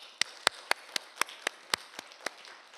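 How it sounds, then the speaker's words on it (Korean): During a church service, a steady series of crisp, evenly spaced hand claps sounds faintly, roughly four per second, against a quiet room. "우리 감사의 박수 한번 드립시다"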